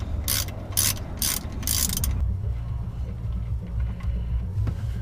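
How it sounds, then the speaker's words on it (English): A ratchet works loose the drain plug on a Nissan 350Z, giving four quick bursts of clicking near and clear over a low steady rumble, then just the rumble continuing. "we're going to take the drain plug off and let it all drain out."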